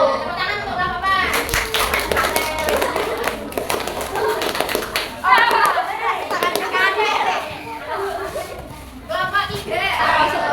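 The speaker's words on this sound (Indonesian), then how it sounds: "Tepuk tangan untuk Bapak." A classroom of children claps for their teacher in a burst of scattered, overlapping applause, with children's voices and chatter mixed in throughout.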